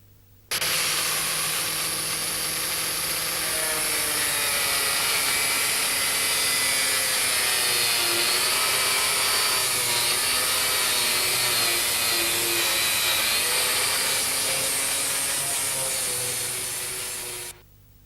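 A continuous high-pitched whine of a power sander with a soft disc running against a car body panel, steady and close for the whole stretch before cutting off.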